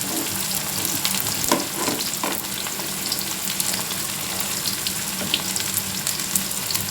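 Chopped onions frying in hot oil with panch phoron make a loud, continuous sizzle close up, with a few faint stirring scrapes and no voices.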